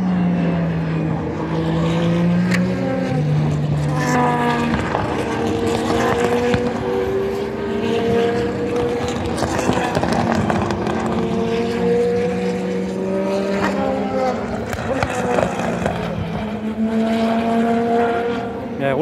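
Endurance race cars lapping the circuit at the 24 Hours of Le Mans, engines droning and rising and falling in pitch as they pass one after another, a continuous layered roar heard from trackside.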